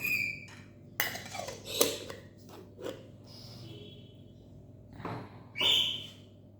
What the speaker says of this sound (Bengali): যতক্ষণ পর্যন্ত না মিশবে ততক্ষণ নেড়ে চেড়ে নেবেন